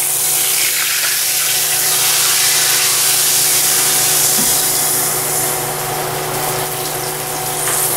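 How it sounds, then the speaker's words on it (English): Fat and oil are drained from a pan of browned chuck roast, a loud steady rushing, gushing pour with a hum underneath, lasting several seconds without talk. "I'm going to get rid of a little bit of this oil. We'll drain some of this off."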